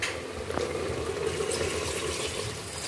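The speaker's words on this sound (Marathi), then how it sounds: "त्याच्यामध्ये हे गरम पाणी टाकण्यात येत आहे।" Hot water is poured into village-style mutton in a pressure cooker, a soft, continuous gurgling pour with a faint bubbling hiss, close and steady for a few seconds without talk.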